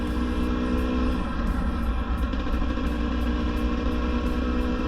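GasGas EC 300 2022 two-stroke enduro motorcycle engine running steadily and loud, a dense continuous drone with rough low-end pulsing and no voices.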